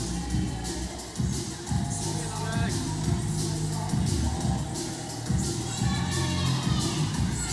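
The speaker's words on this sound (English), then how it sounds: "There are, I think, children also cheering for him." A large crowd at a lead climbing competition final cheers for a climber, with children's shouts in the mix. The cheering swells and fades in bursts under steady commentary.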